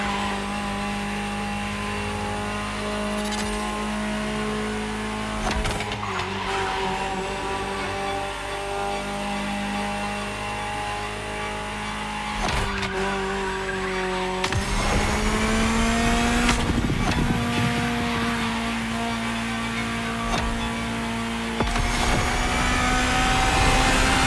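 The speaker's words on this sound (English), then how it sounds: "Just listen to the car you're driving." Ferrari supercar engine in The Crew Motorfest, loud and sustained, with revving, gear changes and rising acceleration, alone without talk.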